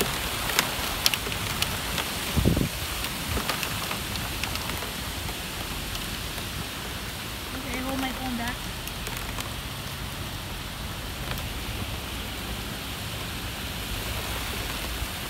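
Steady rain falls in a severe thunderstorm in Westfield, Massachusetts, a dense, even hiss of drops with a few sharp ticks early on and a brief faint voice in the middle.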